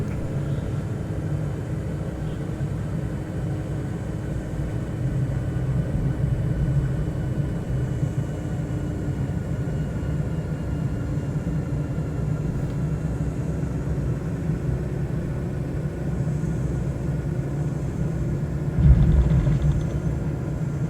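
Steady low engine rumble of an aircraft in Microsoft Flight Simulator 2024 coming in to land badly on a short runway, droning continuously with a brief louder thump near the end, no voices.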